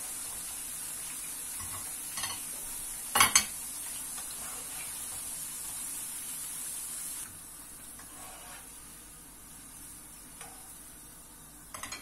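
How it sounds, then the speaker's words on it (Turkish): Potatoes fry in oil in a pan, sizzling faintly and steadily, with a couple of sharp utensil clinks and a quieter stretch toward the end. "Şimdi bu kızaran patateslerimi alıyorum arkadaşlar. Hepsini böyle tek tek kızartacağım"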